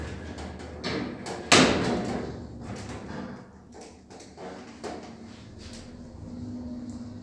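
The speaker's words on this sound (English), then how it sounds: "Doors are closing." Doors of a 2005 Končar elevator in a Zagreb hospital close with a sharp thud early on, followed by softer mechanical rumbling and clicks inside the cab.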